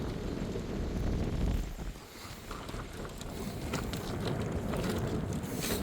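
Strong wind buffets and roars across the microphone in loud, uneven gusts, with a brief lull partway through and no speech.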